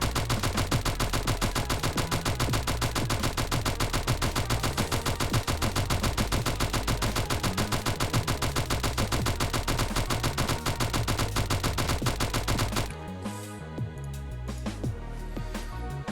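Rapid Uzi gunfire in a video game, a dense continuous stream of shots for about thirteen seconds, then cutting off into softer game sounds.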